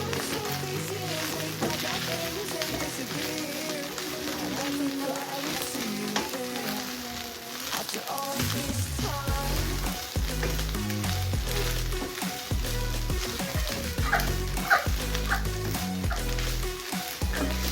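Vegetable rice sizzles and fries steadily in a pan, with scraping and clattering as it is stirred and mixed, loud and close throughout, growing busier in the second half.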